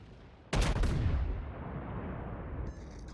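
Battleship main guns fire a single heavy salvo in the naval game World of Warships, a loud deep boom with a long rumbling decay, heard alone without talk.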